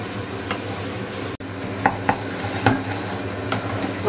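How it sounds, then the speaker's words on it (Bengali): Spices fry in a pan for Bengali-style shahi paneer, with a soft steady sizzle and several sharp scraping stirs of a spoon against the pan, all close up and with no talking. "আমার মশলাটা বেশ সুন্দর ভাজা হয়েছে"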